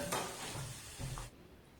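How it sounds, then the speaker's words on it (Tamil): Garlic, onion and tomato paste stirred in a hot pan for a Tamil garlic tamarind curry: brisk scraping and sizzling for about a second, then a quieter low sizzle, with no talking. "இது எல்லாமே சேர்த்துட்டு நல்லா பெரட்டி விட்டுருங்க."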